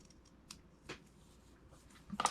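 Scissors trim paper for a garden journal, a few soft close snips and paper rustles, quiet, ending with a louder crisp cut.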